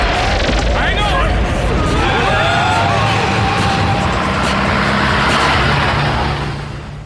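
A taxi cab engine revs and accelerates loudly in an audio drama, with rising whine and a rumbling surge, while voices speak over it.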